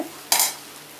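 A single quick scrape of a spoon through vegetable corn poha upma in a pan, one short burst of stirring over a quiet background.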